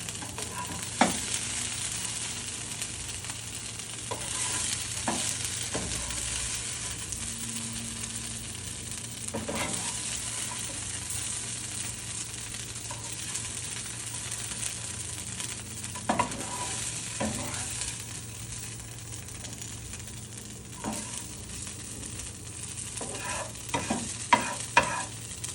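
Batches of fried cauliflower for Gobi 65 are stirred and tossed together in hot oil, with a continuous close sizzle broken by frequent scraping and clinking knocks from the spoon against the pan.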